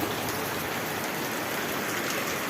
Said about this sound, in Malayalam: ഭയങ്കര കാറ്റും മഴയും, ഭയങ്കര കാറ്റും മഴയും.